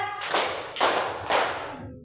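Three loud, evenly spaced group claps from a class of children in a classroom, each a sharp burst with a short ringing tail, about half a second apart.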